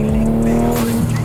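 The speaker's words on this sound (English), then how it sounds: "Give us a little blow off" Blow-off valve on a black Toyota Supra on TE37 Saga S-Plus wheels, a loud close whooshing release over a steady engine drone with tonal hum.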